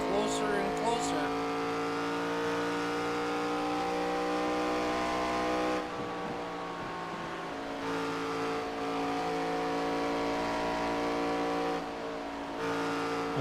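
Race car engines on an oval track, a steady buzzing roar of several cars held at high revs with slight shifts in pitch as they circle, while a commentator talks over them.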